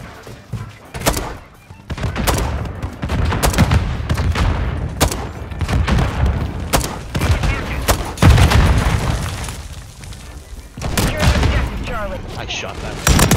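Loud, irregular bursts of gunfire and booming impacts in a Modern Warfare 2023 match, some shots close and sharp, others rumbling. Excited voices talk and shout between the shots.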